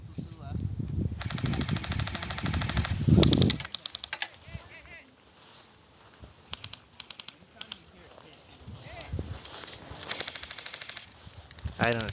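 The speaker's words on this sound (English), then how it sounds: "Way to open up fire, Bruce." Airsoft guns fire during an outdoor game, rapid dry clattering bursts of automatic fire at moderate distance, recurring in short volleys amid rustling and voices of players calling out.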